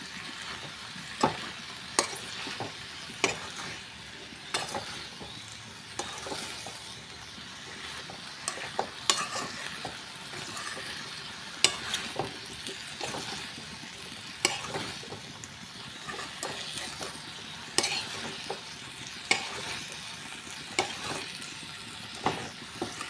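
A spatula stirs potato curry masala in a hot pan for a long stretch. Repeated sharp scrapes and clacks sit over a low, steady sizzle, and nobody speaks.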